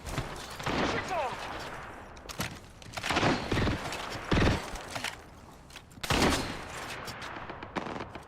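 Rapid gunfire bursts from the Apex Legends battle royale game crack out repeatedly, loud and close, in clusters across the stretch with continuous game noise between them.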